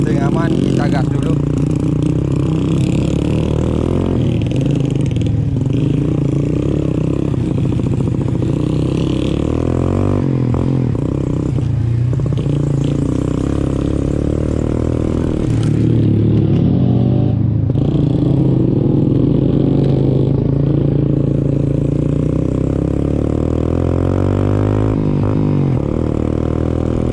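A motorcycle used as a rice-field ojek rides a rural village road, its engine droning loud and close throughout with rising revs and rattling clatter, while someone talks over it.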